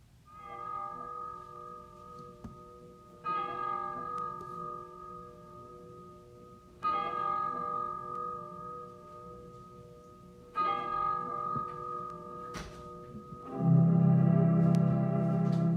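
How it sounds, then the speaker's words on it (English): Church bells at Unity Village ring out in an old, scratchy recording, sounding in four separate spaced peals that each ring and decay, then a louder, denser burst of tones at the end. "It starts off with the bells at Unity Village."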